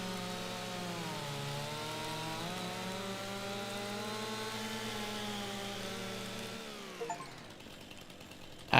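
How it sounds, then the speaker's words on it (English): A chainsaw in Farming Simulator 25 drones steadily as it cuts into a tree. The engine tone shifts and then drops away near the end, leaving a brief clatter. The sound is close and continuous, with no talk. "New chainsaw noise."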